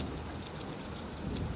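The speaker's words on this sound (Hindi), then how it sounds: "पता नहीं बारिश कब रुकेगी।" Heavy rain pours down steadily in a flood-hit home, a dense, continuous hiss with a deep rumbling undertone that fills everything and stays loud throughout with no voices.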